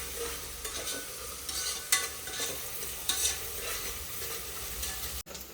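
Onion with chillies and a little oil frying in a pan, a continuous soft sizzle with intermittent scraping stirs, close but fairly quiet, no voices.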